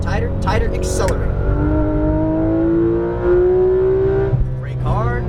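A Porsche 911 GT3 RS (991) accelerates hard on a race track, its engine note rising steadily in pitch as revs climb, with a brief shift near the end, loud and continuous from inside the car.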